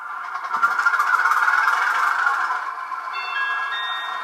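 A Hornby HM7000 model train locomotive starts up with a steady, fairly loud mechanical whirr and hum that builds and holds, and a high whine joins near the end; no one speaks.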